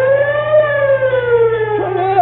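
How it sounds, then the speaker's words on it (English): A brand new fire siren wails loud and steady on its own, its harmonic tone gliding slowly downward and then dipping and rising again near the end. "Eb, how does the siren sound?"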